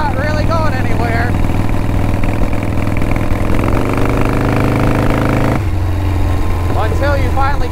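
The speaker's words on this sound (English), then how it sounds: "Fourth gear, coming up a little hill, but I'm leaning into it and we're not really going anywhere." A Harley motorcycle with drag pipes labors uphill in fourth gear, its loud close exhaust rumbling steadily with a rise in pitch midway, then dropping back, with a voice talking over it.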